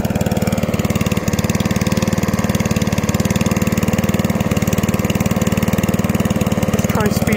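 A 1985 Mountfield M6 PowerDrive lawn mower engine runs roughly, throttled to keep it going, a loud, close, steady rapid putter that drones on without a break.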